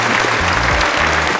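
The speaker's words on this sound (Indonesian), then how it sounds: "Tepuk tangan. Applause." Audience applause from a crowd, a dense burst of clapping that fills the whole short moment at close, loud level, with no talking over it.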